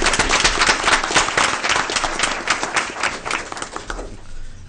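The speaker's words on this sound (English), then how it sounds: "Again, I'm going to give you another round of applause." Audience applause at a school board meeting: a dense, fairly close burst of many hands clapping that fades away near the end.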